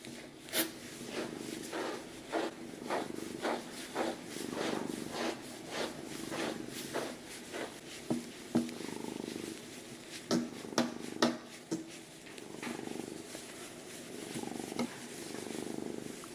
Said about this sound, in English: I think I could de-shed you for days.